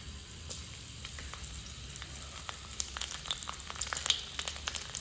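Garlic cloves, fenugreek seeds and mustard frying in hot oil for a desi mangur fish curry, a steady close sizzle with scattered pops and crackles that grow busier toward the end, no talking.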